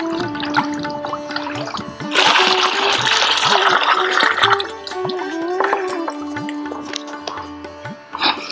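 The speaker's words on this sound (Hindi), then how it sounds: "फिर बाद में हम इसमें डालते हैं गुड़, जो पानी में डाल के रखा है 2 किलो गुड़।" Two kilograms of jaggery dissolved in water pour into an organic farming mixture, a gushing, splashing burst of liquid lasting a few seconds, with someone talking over it and low tonal background sounds.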